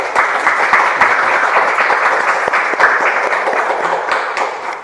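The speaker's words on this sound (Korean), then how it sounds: "마치 짠 듯한 박수가" Audience at a talk with a city mayor breaks into loud, sustained applause: a thick, steady wash of many hands clapping close by, continuing evenly throughout with only faint voices beneath.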